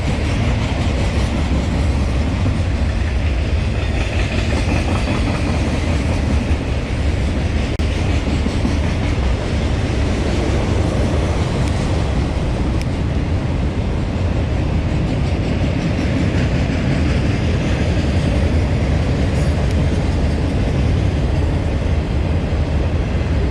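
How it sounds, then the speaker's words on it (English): Long freight train, a mile or two in length, rolling past near Austin, Texas: a loud, steady rumble with continuous clickety-clack of wheels on rails, sustained and unbroken for the whole stretch, no talking. "the trains are usually about a mile or 2 long"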